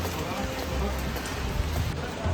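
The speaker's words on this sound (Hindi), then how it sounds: "इस वक्त तो बारिश शुरू हो गई थी अच्छी खासी" Heavy rain at Gangotri in the mountains, a steady dense wash of falling water, close and unbroken for the whole short stretch.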